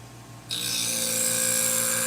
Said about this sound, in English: I'm using a 240 grit diamond wheel